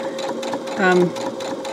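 A sewing machine whirs steadily at close range, its motor briefly speeding up into a higher, rising whine before settling back.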